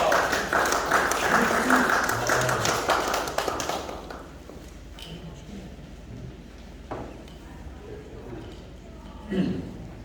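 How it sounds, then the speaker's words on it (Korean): At an opening ceremony for a logistics center in Daegu, an audience claps loudly for a few seconds, then the applause drops off sharply, leaving a quieter room with scattered sounds and a voice at the end. "박수 부탁드립니다."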